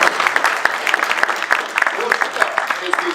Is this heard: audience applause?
yes